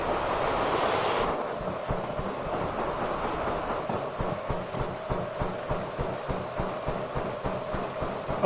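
A steam train in a video game rolls along the rails on a downhill stretch, a steady run of rhythmic wheel clicks and rumble, moderately loud with no talking.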